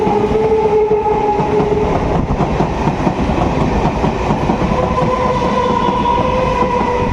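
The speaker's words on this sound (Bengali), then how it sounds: "লালগোলার লোকাল একদম যাচ্ছে রানাঘাট লালগোলা ছুটছে লালগোলার উদ্দেশ্যে" A Ranaghat–Lalgola local passenger train rolls past near the Nashipur rail bridge, a loud continuous rumble of wheels and carriages with steady rail noise and faint tonal hums, carrying on throughout.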